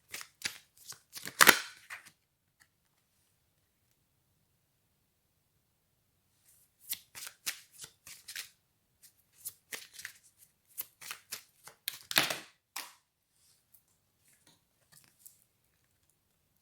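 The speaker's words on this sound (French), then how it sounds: "On me dit qu'on tire 2 dernières cartes." Tarot cards shuffled and drawn at close range: a burst of riffling, then a quiet gap, then scattered soft flicks and slaps with a second louder riffle, no talking.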